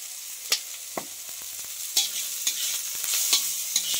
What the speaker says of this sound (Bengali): সব রকম মশলা অল্প অল্প দিয়ে একটু তেল দিয়ে তারপর ভাজবো